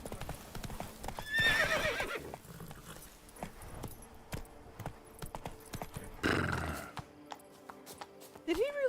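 Roach, a horse in the video game Witcher 3, gives clip-clopping hoofbeats, with whinnies and neighs rising near the start and again at the end, while people talk quietly in the background.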